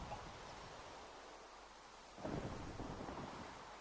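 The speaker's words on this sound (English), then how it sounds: "Oh, bit of lightning." Thunder from a lightning strike in a world-building game: a steady rain-like hiss and then a sudden loud rumbling crack that rolls on for over a second, with no voices.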